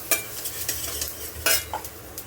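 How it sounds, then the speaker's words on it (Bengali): Spices with ground coriander and cumin are stir-fried in a pan, quiet sizzling punctuated by sharp spatula scrapes and clinks against the metal, irregular and close, no voices. "তো চলো মশলাগুলোকে কষিয়ে নিচ্ছি কাঁচা গন্ধ চলে যাওয়ার জন্য।"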